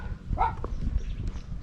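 A dog barks a couple of times outdoors in Bang Krachao, Thailand, short yelping bow-wows at moderate distance over a low background rumble.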